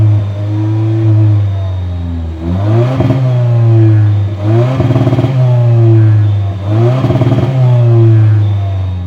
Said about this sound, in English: I'll just go ahead and pause here so you guys can listen to this dual exhaust TRD